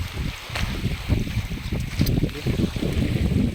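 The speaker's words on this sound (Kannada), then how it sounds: "ಗಾಳಿ ಬರ್ತಾನೆ ಜಾಸ್ತಿ ಆಯಿತು" Evening wind gusting over the open waters of the KRS dam reservoir near Mysuru, a loud, steady low rumble and buffeting that fills the whole clip with no voices.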